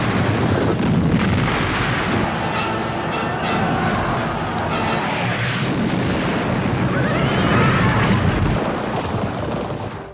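Artillery barrage for the Battle of Waterloo, a continuous roar of booms and rumbling blasts that stays loud and dense throughout, with no gaps between the firing.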